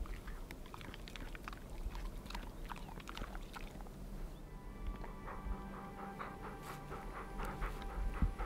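Dogs pant on a mountain hike toward Gergeti Glacier in Kazbegi, Georgia: rapid, close breathing from the pack, mixed with wet chewing and licking sounds and occasional small snuffles.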